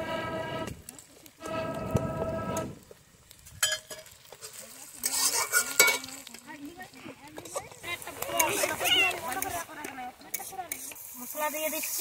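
Ginger-garlic paste frying and being stirred in a pot over an outdoor fire in a rural village setting, with sizzling and scraping of the stirring spoon throughout, occasional clanks, and people talking in the background.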